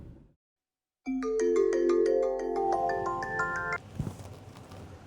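A melodic ringtone announces an incoming phone call in an Indonesian TV drama scene, a loud multi-note tune playing for several seconds before cutting off into a brief clatter.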